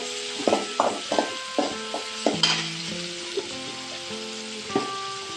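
Spices, chilli powder and salt fry in hot oil in a pan for a beans stir-fry, with a steady sizzle under repeated scraping and clinking strokes of a spoon against the pan, close and fairly loud.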